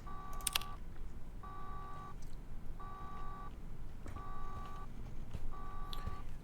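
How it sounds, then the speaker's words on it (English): Alarm going off in the next room in the video game Infra, a repeating electronic beeping tone sounding in five even bursts about a second apart, with short gaps between them, under faint clicks and background hum. "There's obviously an alarm going off in the next room"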